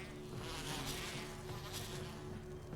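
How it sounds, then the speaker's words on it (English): Bees buzz in the Resident Evil video game, a dense, steady drone of several insects that stays loud and close for the whole stretch with no speech over it. "Some more fucking bees!"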